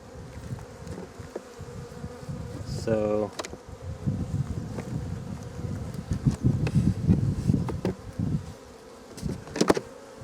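Honeybees robbing a weak hive with no honey left, a dense steady buzzing of many insects up close, with brief rustles and handling knocks.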